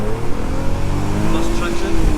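Audi A3 3.2 naturally aspirated V6 engine accelerating with a steady, loud drone and rising harmonic tones, heard from inside the car with continuous rumble throughout.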